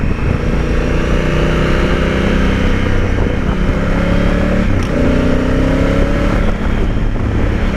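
Honda Africa Twin motorcycle engine droning steadily from the rider's position while cruising out of town, with a sustained loud hum and wind rush and slight pitch shifts as it changes speed.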